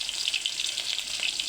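Onions sizzle in hot oil at the start of a duck curry, a steady, close hiss of frying with no voices over it.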